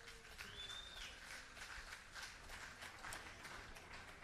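Faint, distant audience applause at a Hawaii County Democratic Party primary grand rally, a steady wash of many hands clapping throughout.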